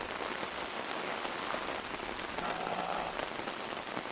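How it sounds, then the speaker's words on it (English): Rain pattering steadily on surfaces outdoors, a soft continuous hiss of drops at moderate distance with no voices over it. "It's not supposed to rain for another hour."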